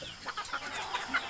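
Chickens in a coop cluck softly in short bursts, somewhat distant, over a noisy background.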